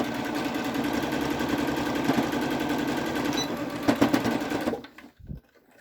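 A sewing machine stitches an elastic pocket for a DIY pocket mask, running in a steady fast mechanical whir for several seconds before stopping abruptly, with a few faint clicks after.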